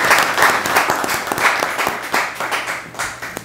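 Applause from an audience at a Korean association meeting reviewing a sports festival, steady dense clapping filling the room for a few seconds, close and fairly loud, with no voices on top.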